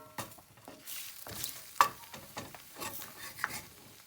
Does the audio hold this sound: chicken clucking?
no